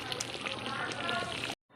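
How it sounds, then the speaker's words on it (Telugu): Water poured into an eggplant and potato curry cooking in a pot, a continuous splashing pour that stops abruptly near the end, with a person talking over it. "ఒక 2 గ్లాస్ వాటర్ యాడ్ చేసుకోవాలి."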